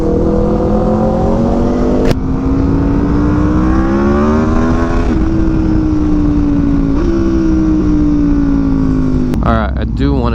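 An Aprilia RSV4 Factory sport motorcycle on the move, its engine holding a loud, steady drone that rises and falls with throttle changes, a couple of sharp shift blips, and continuous wind rush throughout.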